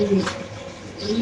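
A male Mundian pigeon at a pigeon farm gives a low, throaty coo lasting just over a second, heard close by over steady background noise.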